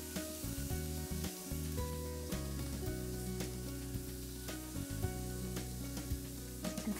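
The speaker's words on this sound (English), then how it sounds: "I'm gonna toss the vegetables with some of the pesto" Grilled vegetables are tossed with coriander pesto on a serving platter, producing soft repeated stirring and scraping against a steady background hiss, close and fairly quiet.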